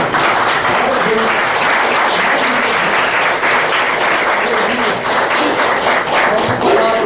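A standing congregation at a Baptist home worship service claps loudly and continuously, a dense, even wash of many hands sustained throughout without a break.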